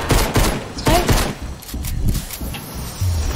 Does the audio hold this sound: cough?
no